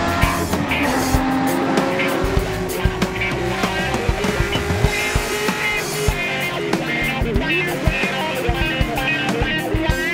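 A Ford Mustang race car drives fast on the NOLA Motorsports Park track, its engine revving loudly through rising and falling gear changes with repeated sharp tire squeals, heard close from inside the car.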